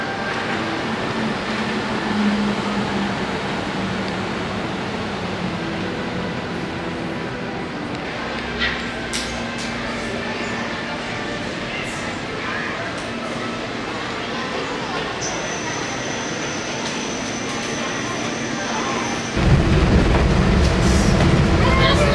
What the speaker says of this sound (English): we're going to actually get the monorail over